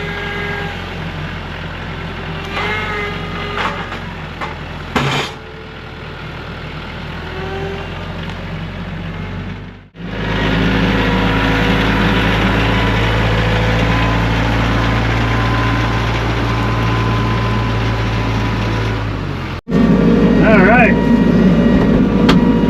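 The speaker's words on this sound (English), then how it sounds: "let's grab it with a tractor and take it around" A tractor engine idles and runs steadily while grabbing and moving a log, its low rumble rising louder in the second half, with a person talking over parts of it.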